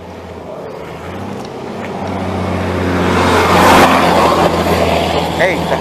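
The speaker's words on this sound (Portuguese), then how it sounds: "um caminhão atrás, dá espaço para ele." A truck comes up from behind a cyclist on a road in Brazil, its engine rumble and tyre roar swelling loud and close as it passes, with a voice talking over the traffic.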